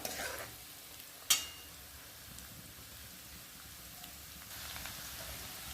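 Chopped onion fries in a pan to turn pink for a Nagpur-style brinjal curry, giving a steady, soft, rain-like sizzle. A single sharp clink of a utensil rings out early, and the sizzle lifts slightly toward the end.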